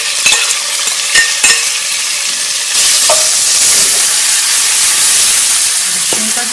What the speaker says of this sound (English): And just grill it up until it's golden brown